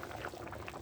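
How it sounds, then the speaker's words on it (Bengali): Water being poured into a simmering magur catfish curry with potatoes: a brief, soft, bubbling liquid splash lasting under a second, with no voices. "এখন পরিমাণ মতো ঝোলের জল দিলাম।"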